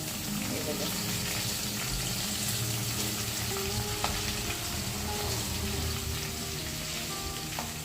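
Chopped capsicum fries in hot oil with asafoetida after mustard seeds have crackled, giving a loud, continuous sizzle close up with occasional stirring and no clear speech.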